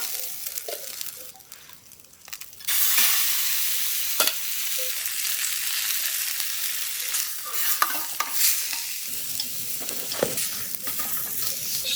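Steak sizzling in a pan at a winter cave campsite, a loud continuous fry that jumps up as the meat hits the pan, with stirring and scraping noises close up.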